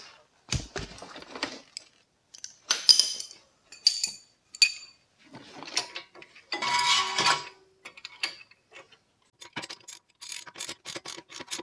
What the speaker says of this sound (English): get our bolt in here. Get it cranked down.